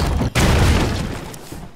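Loud burst of a card exploding in the Hearthstone video game, a heavy boom with a brief dip before a sustained rumbling blast that slowly fades, with no talk over it.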